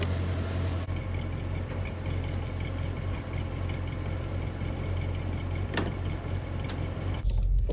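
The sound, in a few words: Audi RS7 engine idling on dynamometer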